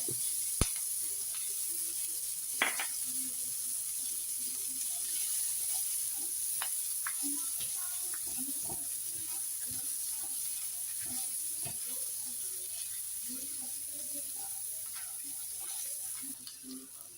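Ginger, green chilli, beans and carrot sauté in a pan for lemon fried rice, a steady soft sizzle running throughout with occasional stir clicks and scrapes.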